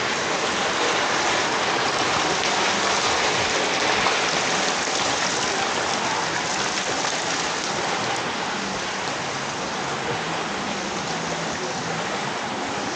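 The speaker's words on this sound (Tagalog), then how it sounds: "dahil sa walang tigil na ulan, ngayon na lumubog na" Heavy rain pours down steadily on flooding ground around a campervan, a dense unbroken hiss of drops on surfaces lasting throughout without pause.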